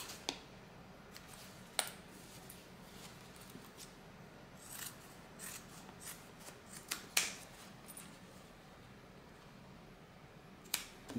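Scissors snip through extra zipper and pocket material on a handbag, a scattered series of sharp, quiet clicks and cuts spread irregularly over soft background hiss, with no speech.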